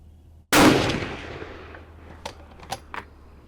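A single loud rifle shot cracks at an outdoor shooting range and rings off in a decaying echo, followed by a few faint metallic clicks and taps.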